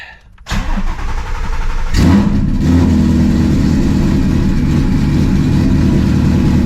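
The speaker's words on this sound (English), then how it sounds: "let's get a little cold start" A straight-piped Shelby GT350 cold-starts on a hot sunny day: a brief starter crank, then the engine catches with a loud rising flare and settles into a deep, rumbling, steady high idle, close and dominant.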